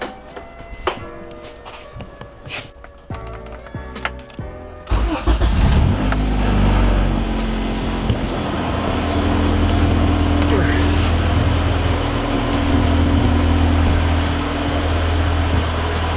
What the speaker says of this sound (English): So go ahead and fire up the car.